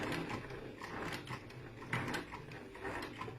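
A sewing machine back stitching a seam on a zipped cushion, its needle whirring in quick close mechanical bursts with a few clunks, fairly quiet and with no talk.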